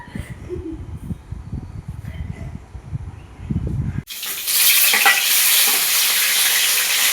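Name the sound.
cooking spicy semolina (jhal suji)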